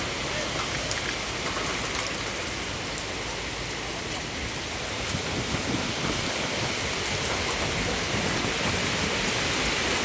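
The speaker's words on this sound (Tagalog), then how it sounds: "Walang hinto yung ulan." Heavy rain pours down in a dense, continuous roar, loud and close, with faint voices buried under the downpour.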